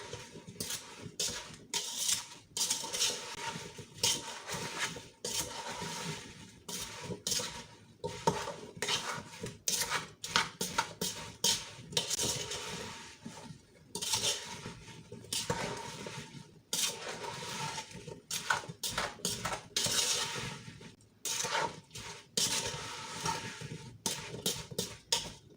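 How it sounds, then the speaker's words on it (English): A utensil stirs applesauce in a pot with continuous scraping and clinking against the metal in an irregular rhythm. The sound is close and moderately loud with no voices. "I'm going to give it a good stir."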